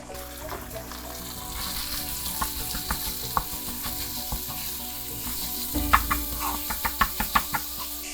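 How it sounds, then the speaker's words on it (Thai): Minced pork stir-fried with garlic in a pan: a steady close sizzle with repeated sharp scrapes and clacks of a spatula, growing busier and louder in the second half, no talk. "เราก็จะผัดจนกว่าหมูเราจะเปลี่ยนสีนะคะเป็นสีขาวอย่างเงี้ย"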